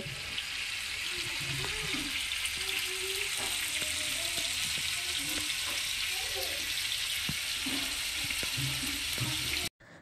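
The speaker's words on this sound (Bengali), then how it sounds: "তো তেলটা ভালো করে গরম হয়ে গেছে, মাছগুলোকে একটা একটা করে দিয়ে নেব।" Fish pieces fry in well-heated oil with a constant crackling sizzle, while intermittent talk and light clinks run underneath, close and steady throughout.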